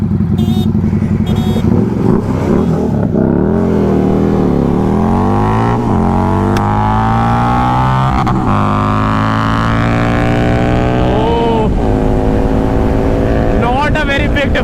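A Bajaj Pulsar RS400 races a Harley-Davidson Street 750, its engine revving loud and close, climbing in pitch through repeated gear changes with rising and falling whines and constant wind rush.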